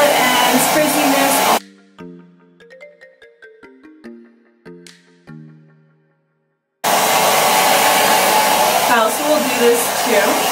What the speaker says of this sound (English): making sure the nozzle or the front end of this blow dryer is pointed downwards